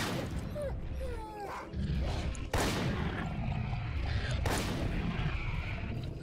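Shotgun blasts in S.T.A.L.K.E.R.: Call of Pripyat: two heavy, booming shots a couple of seconds apart, loud and near, over a rumbling outdoor background with faint creature cries.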